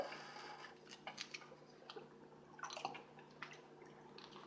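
Dry ice sits in colored water, giving faint, irregular ticking, clicking and rattling bursts over a quiet background hum, with no talk.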